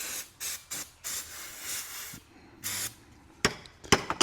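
Used power steering pump parts from a 1976 Cadillac Eldorado being cleaned by hand get several close, loud bursts of aerosol spray hissing in an uneven rhythm, followed by quick sharp taps and scrubbing.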